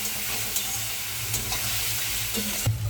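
Spices and pieces of fish fry in a pan for a village-style fish curry, a continuous close sizzle broken by a few stirring scrapes and a knock near the end.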